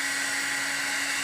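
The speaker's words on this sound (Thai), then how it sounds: "เปิดไดร์เป่าผมเนี่ยเดี๋ยวพอเขาได้รับความอบอุ่นเขาก็" A hair dryer blows a steady, loud whooshing hum with a constant motor whine, held at a distance to warm a small puppy wrapped in cloth.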